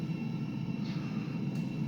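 Steady, fairly quiet low drone of a Dassault Falcon 50EX business jet climbing just after takeoff in the Prepar3d flight simulator, continuous and even throughout with no speech.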